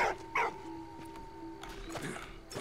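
A dog in the World War I video game Valiant Hearts gives a few faint yips and whimpers amid quiet game sounds and a low steady hum.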